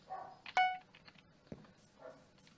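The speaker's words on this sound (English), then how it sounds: "Sorry if you can hear my dogs barking in the background" Dogs bark a few times in the background, with short yelping barks and a whimper spaced irregularly, fairly faint and distant in an otherwise quiet room.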